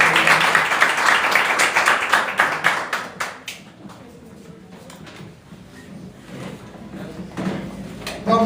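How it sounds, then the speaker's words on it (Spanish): Church congregation applauding, a burst of clapping for the first few seconds that fades into quieter room sounds and a few scattered claps, with some talk nearby. "Denle un fuerte aplauso"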